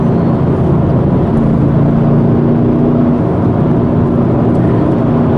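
A 2014 Camaro SS 1LE drives at steady speed with a continuous low engine drone and road roar from inside the cabin, loud and unbroken, with no talk.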